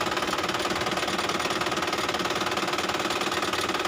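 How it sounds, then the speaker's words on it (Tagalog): A truck's diesel engine runs just after an oil change, idling steadily with an even, rapid knocking rhythm and a constant loud drone. No one speaks. "Ayan guys, pinandar na namin itong makina."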